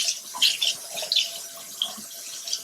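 A tap runs softly nearby, water splashing unevenly into a sink at a low level while makeup brushes are cleaned.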